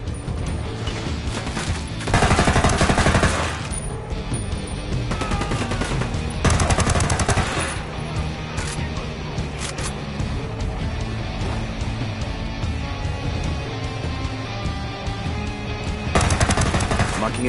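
Sustained automatic gunfire and bursts of shooting in Ghost Recon Wildlands, with heavier volleys around the third, seventh and sixteenth seconds over a constant din of combat.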